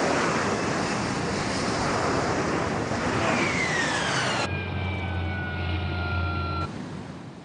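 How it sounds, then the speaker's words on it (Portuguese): A Harrier jump jet hovers over the sea at full engine power, a loud, broad roar like rushing surf with a rising whine, steady and close, with no voices. "Quando ele paira, o motor funciona com força total."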